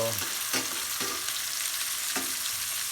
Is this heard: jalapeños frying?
yes